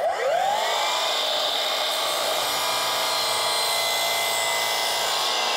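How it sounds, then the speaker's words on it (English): A miter saw cuts through a cedar board for a porch build, a loud, steady high-pitched whine of the blade held for several seconds, close by with no talking. "that's cheating using a miter saw to do this"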